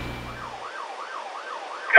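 A police car siren wails, rising and falling in a steady cycle, clear and moderately close, during a chase, with a brief low rumble at the start and a sharp burst at the end.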